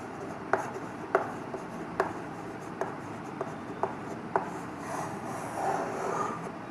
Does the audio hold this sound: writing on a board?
yes